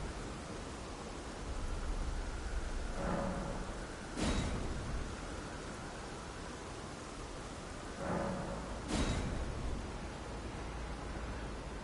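A video game thunderstorm, with steady hissing rain under two pairs of sharp thunder cracks spaced several seconds apart.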